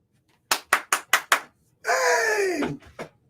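Five sharp, evenly spaced hand claps ring out close and crisp in a quiet room, followed by a drawn-out vocal shout and one last short sound.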